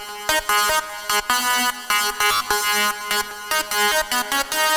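A bright, buzzy FM saw-wave synth lead from Serum, with no formant filter, plays a choppy staccato melody. The rhythm is quick and bouncy, and the sound is loud and up-front with no voices.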